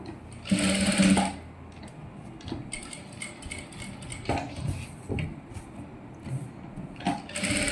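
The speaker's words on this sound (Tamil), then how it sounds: "இப்போ நம்ம சுற்றி தையல் போட்டுக்கலாம்" A sewing machine runs in a short loud burst stitching a child's silk skirt, then gives way to quieter clicks and handling of the fabric and machine parts.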